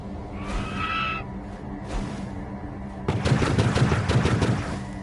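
Spaceship laser fire from the Star Fox video game, a rapid burst of repeated shots following softer electronic chirps and tones, loud and alone.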